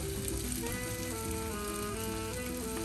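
Syrian falafel fry in hot oil with a constant, dense bubbling sizzle that stays even throughout, close and with no talk.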